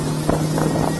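A 2023 Fischer Pro Fish 1550 boat with an F70 outboard motor runs at speed, a steady droning hum mixed with wind buffeting the microphone, brief and loud with no talking.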